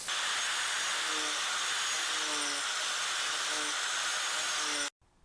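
A grinder shapes a wooden bandsaw box. Its loud, continuous whine runs close up for about five seconds, then stops abruptly.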